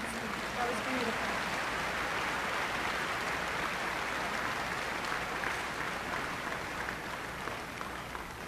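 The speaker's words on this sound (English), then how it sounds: "applause for our choir and Miss Kaminsky" Sustained audience applause for a high school choir at a graduation ceremony, an even wash of many hands clapping at moderate distance with a voice briefly audible near the start.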